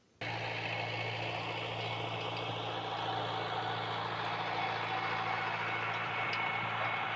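A tractor towing a firewood-cutting trailer rumbles steadily and close, its engine drone holding an even, continuous tone from just after the start to the end, with no talk over it.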